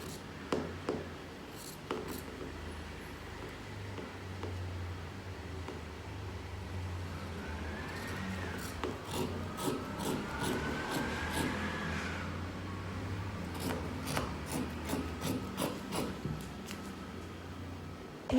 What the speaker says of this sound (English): Then I'm cutting out the shoulder slope.